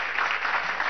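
Audience applause at the precommercial inauguration of the Mukumbarí cable car in Mérida, a steady dense clapping wash filling the whole short moment, fairly loud and without voices on top.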